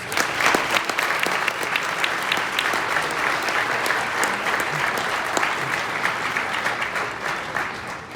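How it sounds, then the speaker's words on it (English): A gala crowd applauds the teaching team of the Alpine Learning Group, dense steady clapping that fills the room and holds evenly for several seconds. "let's give them a round of applause"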